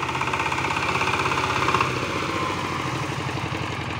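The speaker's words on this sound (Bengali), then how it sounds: "নতুন পাওয়ার টিলার, আজকে নতুন জমি চাষ করার জন্য নামানো হয়েছে" A new 20-horsepower power tiller engine runs steadily at close range with a loud, rapid chugging beat that dips slightly in pitch partway through. No one speaks over it.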